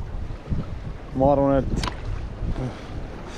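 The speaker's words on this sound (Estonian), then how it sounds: "tuul lokkab veel kõvemaks minema" Strong storm wind buffets a small boat whose light anchors are dragging, producing gusty roaring rumbles at the microphone while someone speaks over it.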